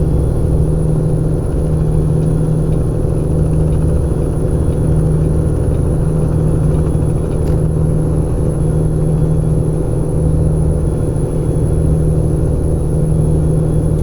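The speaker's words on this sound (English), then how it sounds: "If you guys did want to download Creechbaum's engine sounds, those are available on the Steam Workshop also" A truck engine in the video game American Truck Simulator drones at a steady idle, a constant low rumble with no revving or change in pitch, alone and without talk.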